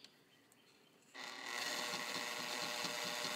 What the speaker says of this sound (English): that's 2 layers of garment leather, and the machine is just handling it like it was nothing